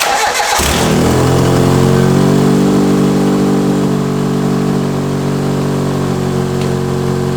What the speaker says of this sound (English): let's see what this thing sounds like with basically most of the exhaust on, just the resonator pipe.